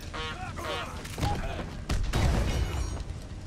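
Explosions in the video game Batman: Arkham Asylum give heavy booms and crashes layered over game clatter, with short vocal sounds early on and two loud bursts later in the clip.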